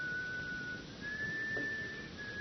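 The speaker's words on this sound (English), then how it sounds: "the sinister whistling notes of the funeral march sound once again" A lone whistler carries a slow, sinister funeral march in a dark funhouse scene from an old radio drama, thin sustained notes gliding steadily over faint background hiss with no talk.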